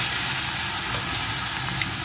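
A large crushed garlic clove frying in hot oil for a spicy dhaba-style chicken curry, giving a steady, dense sizzle that stays loud and continuous throughout with no talking.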